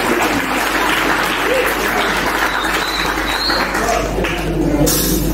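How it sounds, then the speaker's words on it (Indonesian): Loud, dense applause from an audience at a university graduation ceremony for new religious studies graduates, continuous clapping filling the whole stretch with a crowd murmur beneath. "kalian boleh tepuk tangan dan mengucap"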